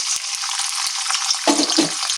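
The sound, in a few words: coconut frying in leftover oil from frying potatoes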